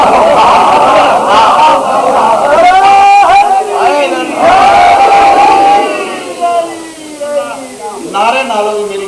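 A large crowd at a religious gathering chanting slogans together, many loud overlapping voices rising and falling in sustained unison shouts that fill the whole stretch.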